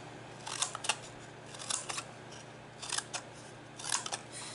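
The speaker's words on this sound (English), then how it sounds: "then we'll cut in on these score lines" Scissors cut along score lines in paper for a treat pouch, producing close, crisp snips in small quick clusters of two or three spaced out across a few seconds.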